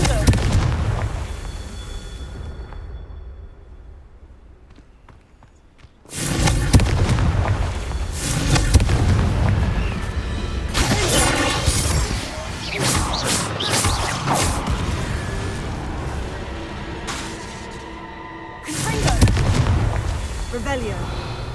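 Confringo spell explosions crash again and again in a video game, loud booming blasts and bursts over a rumbling battle din, with a short quieter lull before the barrage resumes; a voice speaks over parts of it.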